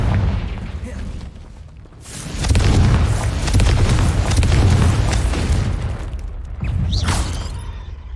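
A Confringo fire spell bursts in Hogwarts Legacy, a loud rumbling boom that swells and roars for several seconds, then a second blast near the end, with the caster voicing the incantation.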